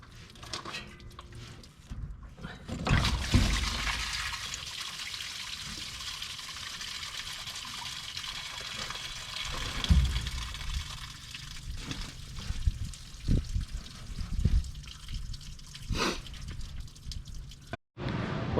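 Cleaner-flushed coolant drains from a 1963 Impala radiator in a shop. It trickles and drips quietly into a pan, with occasional splashes and knocks.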